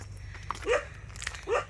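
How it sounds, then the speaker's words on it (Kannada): A dog barks twice, a few moderately loud yelps spaced about a second apart over faint background hum, outdoors in a forest area. "ನಮ್ಮನ್ನ ನೋಡಿ ನಾಯಿ ಕೂಡ ಬಗ್ಲುತ್ತಾ ಇದೆ"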